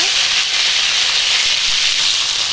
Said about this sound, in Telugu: ఆనియన్స్ కూడా తీసివేసుకొని బాగా ఫ్రై చేసుకోవాలి